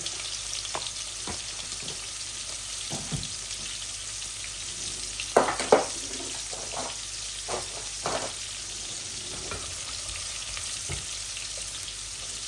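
Garlic and cumin sizzle in hot oil in a cooking pot with a steady crackling fry, punctuated by occasional sharp clinks and scrapes of stirring close by.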